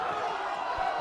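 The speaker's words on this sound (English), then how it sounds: "The crowd is going wild here." A wrestling crowd roars and cheers at a steady level throughout a short burst, moderately loud with a wide arena wash and no clear single voice standing out.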